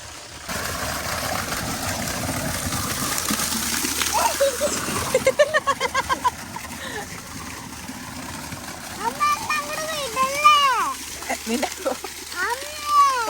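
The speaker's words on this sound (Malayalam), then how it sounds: "തലയ്ക്ക് അത്രയും ഡയറക്റ്റ് ഫോഴ്സിൽ വെള്ളം ഒഴിക്കണ്ടായിരുന്നു." Water poured over someone's head splashes and sloshes in bursts at a pool villa homestay, with a run of quick splatters midway, while voices and high calls sound throughout.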